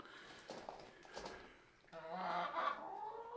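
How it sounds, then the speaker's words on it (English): A rooster on a homestead gives short clucking and throaty calls in two bursts, fairly close, with some faint human sound in between. "Sometimes you just end up with a nasty rooster."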